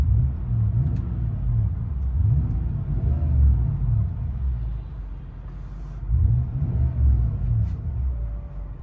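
Cabin view of a 1996 Lexus LS 400 4.0L V8 with true dual exhaust and valved mufflers shut, giving a steady low interior rumble that swells slightly in places, with no talk.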